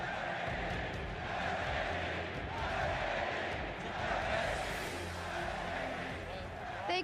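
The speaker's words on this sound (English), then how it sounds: "the crowd erupting in chants for SKT Faker" A huge arena crowd at the League of Legends World Championship, celebrating SKT's win, roars and chants in a dense, sustained wash of noise that never lets up.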